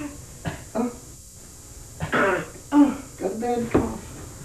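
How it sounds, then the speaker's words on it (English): A few short coughs and throat-clearing bursts come in quick succession, close by, with brief pauses between them. "You got a bad cough, huh?"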